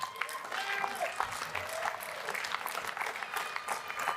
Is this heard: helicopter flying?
no